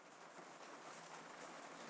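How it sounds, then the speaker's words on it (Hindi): Rain falling in the background, a soft steady hiss of drops with no distinct events, faint and continuous, without talking. "बैकग्राउंड में थोड़ा सा आवाज आएंगे आपको क्योंकि बारिश हो रहा है यहाँ पे"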